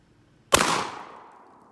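A single loud blast from a Rock Island Armory VR60 shotgun cracks out close by and then trails off in a long, fading echo.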